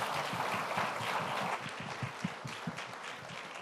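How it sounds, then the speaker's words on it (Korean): Congregation applauding in a church during an intercessory prayer school graduation ceremony, a steady wash of many hands clapping at moderate distance. "우리 다시 한번 큰 박수로 함께 돌리겠습니다"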